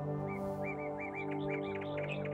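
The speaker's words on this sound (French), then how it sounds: "Vous pouvez entendre les oiseaux chanter de plus belle." Birds singing in a forest, a series of bright chirps and whistled notes repeating quickly and growing busier, over a steady sustained musical drone.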